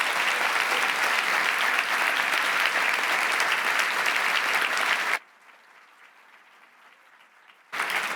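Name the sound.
audience applause for conference delegates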